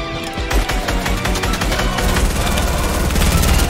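Rapid bursts of automatic gunfire in Fortnite, loud and close, firing in a dense, fast rhythm across the whole moment with sharp repeated cracks and little pause between shots.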